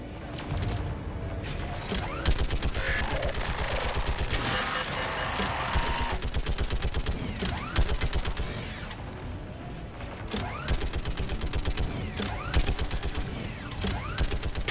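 Rapid mechanical turret fire in Mass Effect 3, a dense stream of sharp repeated bursts with clanking, whirring machinery running steadily throughout the battle.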